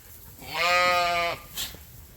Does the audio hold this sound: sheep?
yes